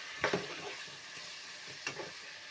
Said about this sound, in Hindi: हम अब इसमें ऐड करेंगे टमाटर और इसको थोड़ा सा भून लेंगे